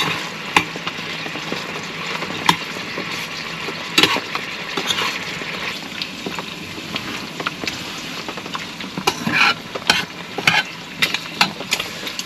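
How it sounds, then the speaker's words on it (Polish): Onions and bacon frying in a pot at a campsite cook-out, giving a steady low sizzle with scattered sharp crackles and pops over roughly twelve seconds, close up, with no voices. "Także jak tutaj tą podsmażę cebulkę i to się skurczy trochę."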